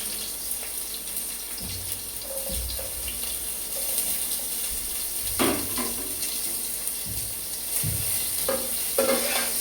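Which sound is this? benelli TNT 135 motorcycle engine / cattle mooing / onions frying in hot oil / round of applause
onions frying in hot oil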